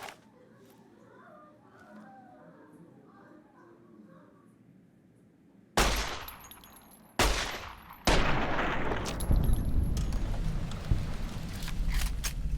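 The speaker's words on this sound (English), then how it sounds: "So why are my bullets going through him?" Gunfire in Fallout New Vegas: after a few quiet seconds with faint voices and game ambience, a loud shot cracks out, followed by a second and then a sustained burst of rapid, overlapping shots that continues to the end.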